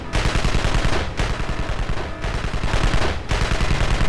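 Rapid automatic gunfire in the video game Evil Genius comes in loud, dense bursts of about a second each, separated by brief gaps, close and continuous with no speech.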